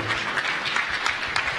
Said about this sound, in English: Please clap more.